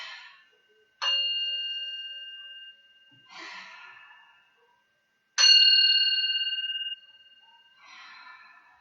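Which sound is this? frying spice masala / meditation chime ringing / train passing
meditation chime ringing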